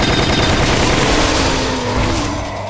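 Rapid gunfire from a weapon in Resident Evil: The Umbrella Chronicles, a dense, continuous burst of shots heard loud and close, thinning out slightly toward the end.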